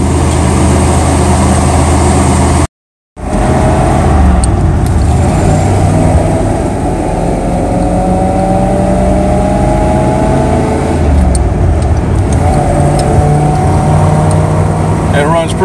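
A 1978 Chevrolet El Camino engine runs loud and close with a steady low rumble and a rising whine as it pulls away on the road, with a brief dropout early on and a voice talking over it.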